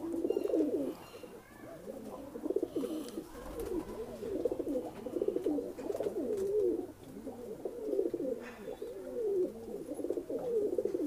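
Lalsare pigeons coo steadily in soft, rolling, repeated phrases, several birds overlapping close by with a continuous rhythmic murmur throughout.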